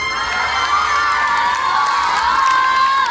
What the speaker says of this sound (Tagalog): Bakit di po natin palakpakan at sigawan Miss Tony Gonzaga?